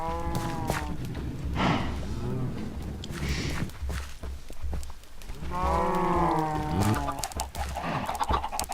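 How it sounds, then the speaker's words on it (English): Chickens cluck and squawk in a Minecraft game, with repeated close calls in bursts over a steady low hum and background game noise. "some chickens have gotten in the way"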